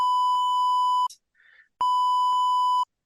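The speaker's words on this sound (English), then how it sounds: "I'm going to beep this out for fun" A censor bleep cuts over speech on a country music podcast: two loud, steady electronic tones, each about a second long, separated by a brief muffled fragment of talk.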